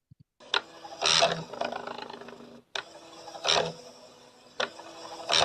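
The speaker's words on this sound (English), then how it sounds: "a little thermal printer that was common on the MC10 and on the CoCo at the time" A TP-10 thermal printer, a small printer used with the MC-10 and CoCo computers, prints in two repeated bursts of buzzing, scratchy mechanical rasping with faint clicks between, slightly distant as if played back from a recording.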